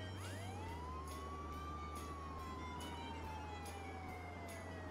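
A vehicle siren wails in the video game Contraband Police, one long sweeping rising and falling tone over a steady low engine drone, fairly faint and continuous throughout.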